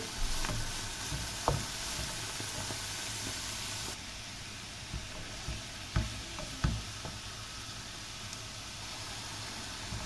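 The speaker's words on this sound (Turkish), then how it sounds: "Ve turplarımızı ilave edelim. 5 dakika daha kavuralım." Boiled wild radish greens sautéing in a pan, a soft hiss of frying under occasional light taps and scrapes of a spatula, fairly quiet and close, with no talking.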